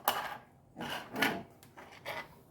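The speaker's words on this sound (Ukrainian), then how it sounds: "Накриваю кришечкою і закручую." A lid being screwed onto a glass jar of marinated tomatoes, heard as four separate rasping twists with short pauses between them, close and fairly quiet.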